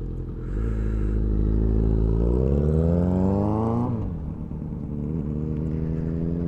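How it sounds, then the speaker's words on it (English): A motorbike ridden through city streets at night, its engine note climbing steadily as it accelerates, then dropping sharply and settling into a steady drone, loud and close throughout. "riding the motorbike"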